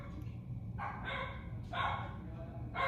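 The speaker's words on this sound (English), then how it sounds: "My dog is throwing a fit." A dog barks in short bursts, three loud yips spaced about a second apart, close by over a low room hum.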